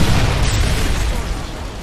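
A Predator missile strikes during a Domination match on Highrise in Call of Duty Modern Warfare 2, a loud, sustained roaring blast that fills the whole moment and slowly fades, with a voice faintly under the rumble.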